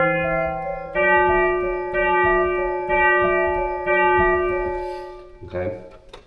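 A church pipe organ's flute stop, with its 4-foot pitch, plays a whistling two-note cuckoo clock call. The call repeats roughly once a second in clear sustained tones, and a faint voice and some noise come at the end.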